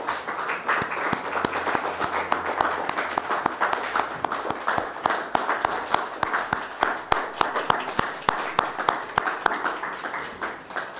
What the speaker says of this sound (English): let us all give a huge round of applause to Sylvia Hunt.